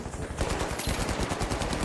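AK rifle fire in a zombie video game, a rapid, dense automatic burst of game gunfire, loud and continuous over under two seconds.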